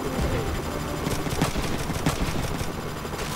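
Mech gunfire in the PS1 game Front Mission 3 plays as a dense burst of automatic shots. Sharp reports crack through a loud, busy battle mix.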